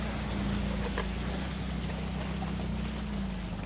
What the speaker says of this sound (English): can hear the exhaust bubbling